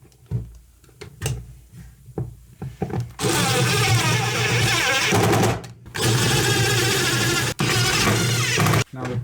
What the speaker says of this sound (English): I'm just securing down the BMS with some self-tapping screws into the aluminum.